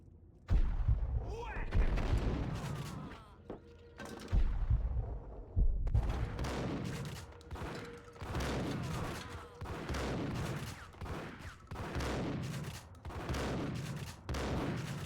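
Video game gunfire in Max Payne, repeated bursts and rapid volleys of close shots with short pauses between, continuing steadily over the stretch, with a voice speaking occasionally under the shooting.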